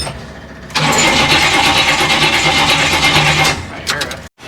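A Buick engine fitted in a 1937 Ford pickup cranks hard, with a loud rhythmic churning that runs for about three seconds and then cuts out, followed by a brief sputter.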